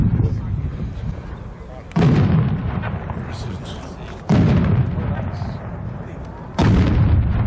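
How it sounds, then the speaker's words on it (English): A 4-inch firework shell with a bottom shot, fired at a winter fireworks show, sends three heavy booms about two seconds apart, each a sharp loud blast followed by a long rumbling decay. "a bottom shot is going to be a big bang at the end"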